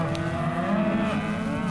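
A Corriente cow moos in one long, low, drawn-out call, close and loud, with no voices.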